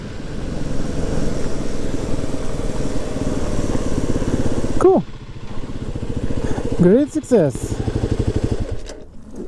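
Motorcycle engine running steadily and loud for the first half, then a rider's gear changes and revving rise and fall nearer the end, with a voice speaking briefly over it.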